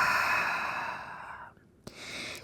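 A long, deep exhale during yoga breathing, a soft breathy rush that fades over about a second and a half, followed by a brief quiet gap and a faint return of airy sound.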